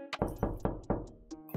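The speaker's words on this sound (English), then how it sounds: "I knocked on the door." Knuckles rapping on a house door, five or six sharp close knocks in a quick uneven sequence, loud and alone.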